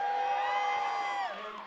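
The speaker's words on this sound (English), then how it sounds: "You can hear this very loud crowd behind me" A large, loud crowd cheers and whoops at a live evening yard-game tournament final, a sustained roar with a strong yelling tone that swells and then fades slightly toward the end.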